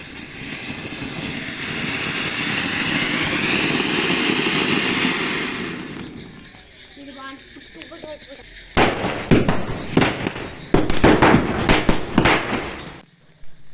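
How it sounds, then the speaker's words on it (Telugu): Firecrackers set off at home during a Karthika Pournami celebration: after a long hissing fizz and a quieter gap, a rapid run of loud, close cracking bangs pops in quick bursts. "మా స్మైలీ బాంబులు కాల్చుకుంటే నాకు నిలబడు అంటుంది."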